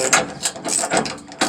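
Hand ratchet tightening a bolt on a RAM Hemi truck, a quick run of close, loud clicking strokes in uneven bursts with no talking.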